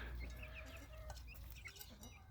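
Young chicks in a coop give soft, high peeps and small clucking calls, scattered and overlapping, faint and continuous through the short stretch.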